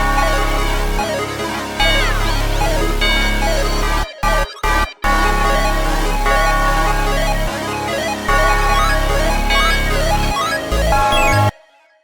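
A full hip-hop beat rolls on with a glitchy, mechanically processed loop, dense layered melody and a heavy low end, briefly cut by stuttering dropouts midway before running to an abrupt stop; no vocals.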